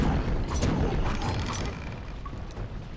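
Fiery dagger strikes in the action RPG Kingdoms of Amalur: Re-Reckoning, dense whooshing bursts and low rumbling booms that overlap in a continuous loud flurry, easing slightly toward the end.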